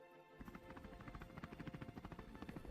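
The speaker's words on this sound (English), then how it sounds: "Helicopter. Helicopter." A video game helicopter starts up and keeps going: a steady, rapid rotor chop with a rhythmic pulsing thud, fairly quiet and heard on its own.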